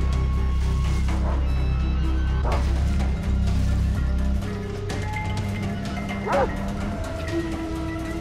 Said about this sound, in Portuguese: tem um outro cara ali com o cachorro